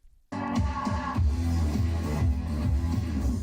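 An unreleased demo track played back, starting abruptly after a short silence with dense, crunchy, loud music and a pulsing low-end beat that continues steadily.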